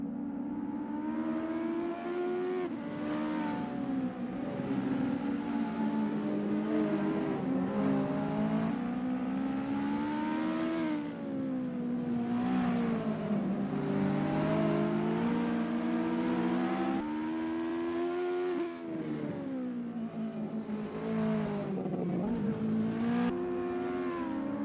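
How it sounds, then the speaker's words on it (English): US Legend Cars warming up at the Ahvenisto circuit in a racing game, several engines droning and revving continuously, pitch rising and falling as the cars accelerate and shift, steady and fairly close throughout. "It's a lovely day for racing here at Ahvenisto as we watch these drivers warm up and get ready for the race"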